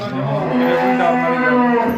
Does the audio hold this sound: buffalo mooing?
yes